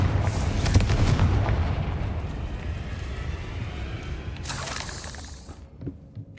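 Spell explosion in Hogwarts Legacy: a loud booming blast with crackling debris up front, rumbling on and fading, then a second bright burst near the end.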